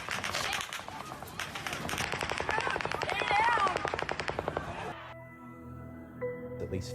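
Rapid automatic gunfire from the Las Vegas Strip mass shooting at an outdoor country music festival, a long rattling burst of evenly spaced shots that cuts off abruptly into quieter background tones.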